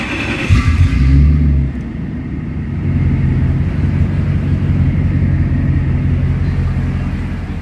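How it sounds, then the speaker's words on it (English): Land Rover Defender 110 running through a custom-built exhaust, a deep low engine rumble with a brief rev near the start, then settling into a steady throaty idle, close and loud, no talking. "build a custom made exhaust for this car, so you can hear the sound now"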